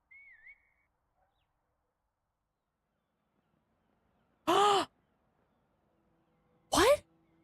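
Seagull cries from a harbor scene in a video game: two loud, separate squawking calls with falling pitch, the first after a long silence and the second about two seconds later, preceded by a faint short whistle-like tone.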